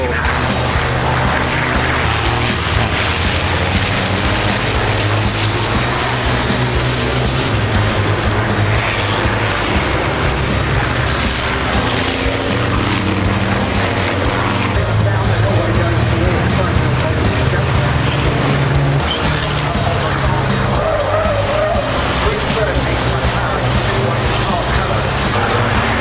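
Powerful racing trucks of around 1,000 brake horsepower tear around the Brands Hatch circuit at over 100 mph during a British Truck Racing event, a continuous loud roar of engines passing near, with voices talking under the noise.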